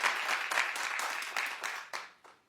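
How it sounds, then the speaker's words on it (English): A studio audience at a daytime talk show clapping, a fairly faint, scattered round of applause with a few distinct claps that tapers off within a couple of seconds. "clap if you agree with Porsha and me"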